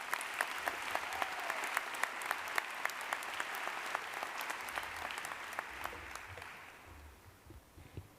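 An audience at a university commencement ceremony claps for the incoming speaker, sustained applause with crisp individual claps that thins and fades toward the end, moderately distant in a large hall.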